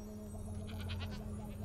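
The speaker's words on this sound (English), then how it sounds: "Wait, are they trying to sacrifice this goat?" A goat bleats in the video game Spyro 2: Ripto's Rage, several short wavering cries over a steady game background hum, with no talk.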